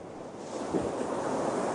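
Sea waves wash onto a seashore in a continuous, fairly loud roar that swells slightly midway, heard alone without talk.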